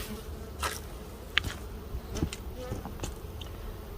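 Honey bees buzz around an open hive during a September colony inspection, the low hum broken by brief louder passes of single bees close to the microphone.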